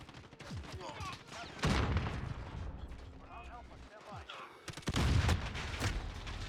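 Gunfire in Call of Duty comes in fast bursts of loud close shots with mechanical weapon noises between them, and a voice talks at moments between the bursts.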